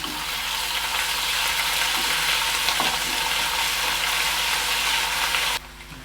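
Ginger garlic paste frying among browned onions for tomato rice, a loud, steady close sizzle with occasional stirring scrapes, cutting off abruptly near the end.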